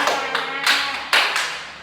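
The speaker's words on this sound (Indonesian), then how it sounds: "Tepuk tangan dulu nih semuanya." A class claps hands together in a classroom, a few loud, close bursts of clapping, each starting sharply and fading quickly, with no talk.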